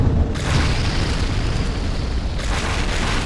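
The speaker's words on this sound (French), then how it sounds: "Ouah, explosion, explosion, explosion." A nuclear bomb detonates in the Rival Rebels mod for Minecraft, a loud, sustained booming roar that fills the whole stretch, swelling after a brief quiet start and rumbling on without any voices.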